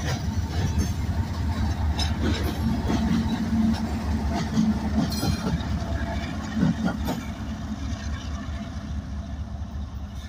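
Norfolk Southern freight train rolling past near Decatur, Alabama, a loud continuous rumble of wheels and cars with faint clickety-clack, steady throughout with no talk.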